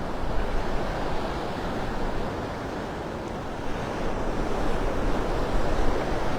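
Steady broadband wind buffets the microphone on Vanderbilt Beach in Naples, Florida, with the wash of gentle surf blended underneath, loud and continuous without a break and no voices.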